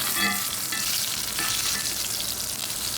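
A ribeye steak searing with butter and oil in a cast iron pan, giving off a bright, intense, continuous sizzle heard up close with no talking.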